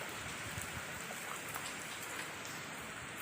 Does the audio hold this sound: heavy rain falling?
yes